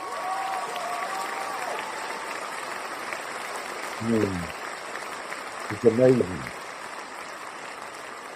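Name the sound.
applause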